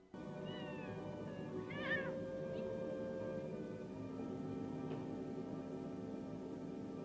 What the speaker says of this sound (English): But he gets interrupted by Puma the cat.